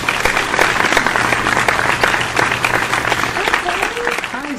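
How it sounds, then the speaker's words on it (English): Studio audience applause at a late-night talk show, a dense steady wash of clapping with a faint voice or whoop rising near the end. "Would everyone please give a big round of applause to my best friend,"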